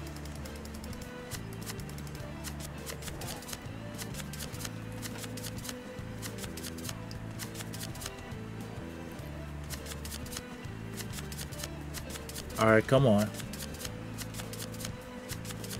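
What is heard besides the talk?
shuffling cards in a video game card deck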